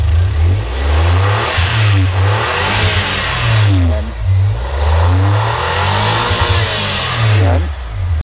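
A turbocharged engine in a Suzuki DA17W van revs repeatedly up and down, several loud rising and falling blips close by, with brief idle dips between them.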